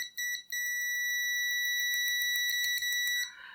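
A WinAPEX ET8104 multimeter emits a loud, sustained electronic beep, a pure tone with overtones that cuts off briefly near the start, then holds steadily for almost three seconds before stopping.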